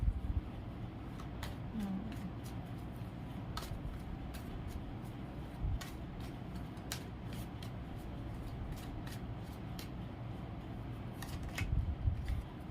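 Tarot cards being shuffled at a quiet indoor reading, faint irregular riffling flicks repeating over a soft background hiss with no talk.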